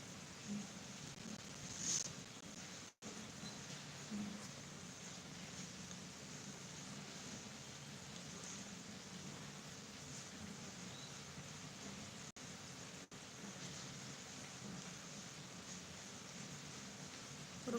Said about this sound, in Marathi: अजूनपर्यंत पाऊस चालू आहे अक्षरशः आत्तासुद्धा पाऊस बाहेर पडतोय